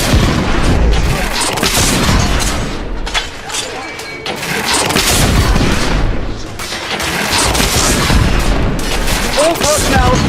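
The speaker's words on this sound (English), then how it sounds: "We are witnessing heavy artillery fire at the moment." Heavy artillery fire in The Order: 1886, a loud, continuous barrage of booming blasts and crashing impacts that rolls on without pause, with voices mixed into the chaos.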